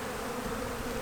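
Honeybees, likely foragers, hum in the top box of an open hive during a winter inspection, a steady, moderately loud drone with no voices.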